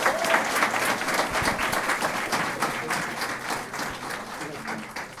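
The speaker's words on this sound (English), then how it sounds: "If we can give them all a big round of applause" Applause at a school board meeting for students with perfect state math scores, a dense round of clapping from a roomful of people that slowly tapers, with voices mixed in.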